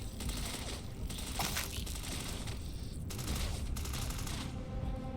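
Gunfire in the sci-fi video game Starfield, a dense, steady barrage of overlapping shots that is loud and continuous for several seconds with no clear gaps.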